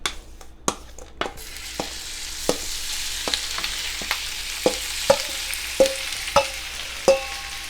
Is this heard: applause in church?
no